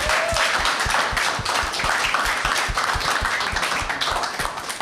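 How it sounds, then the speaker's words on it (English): An audience at a live Dungeons & Dragons show claps and applauds steadily, a dense wash of many hands with some distinct claps standing out, sustained and fairly close. "give yourselves a big clap for that, for being here"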